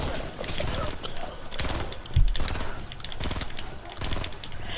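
Shotgun gunfire in a shooter video game, heavy blasts and mechanical clatter in a dense, loud game mix, with a burst of shots partway through and voices talking underneath.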